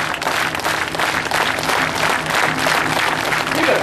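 An outdoor crowd at a buskers festival in Saint John, New Brunswick, Canada claps loudly and continuously, a thick, close wash of many hands that holds steady throughout.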